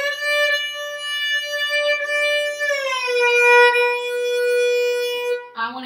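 A sustained bowed violin tone slides slowly down in pitch and then back up, imitating a siren in a smooth glide, loud and close, ending with a brief scrape.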